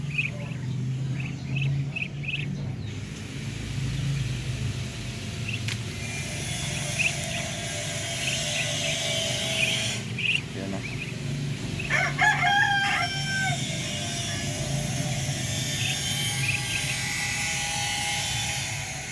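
Native chickens and chicks on a small farm give off clucks and a rooster's crow, with a burst of calls near the end over a steady, rumbling outdoor background.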